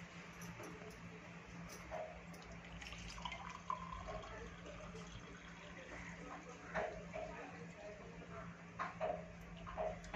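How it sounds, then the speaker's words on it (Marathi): Hot water is poured into a colour-changing magic mug, producing faint, quiet trickling and scattered small drips over a low steady background hum. "चला आता आपण बघूया गरम पाणी टाकून."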